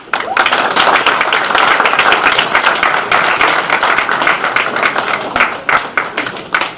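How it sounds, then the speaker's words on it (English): An audience at a Black History Month celebration claps loudly and steadily, a dense crowd applause filling the whole stretch with no voices over it. "Clap it up."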